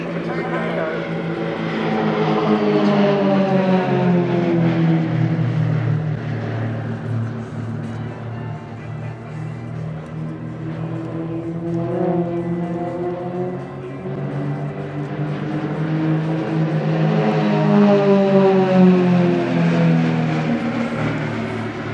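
Royal Jordanian Falcons Extra 330LX aerobatic planes fly a formation display at RIAT. Propeller engines drone loud and close, swelling and fading with Doppler-like pitch shifts as they pass, while a commentator talks over the sound.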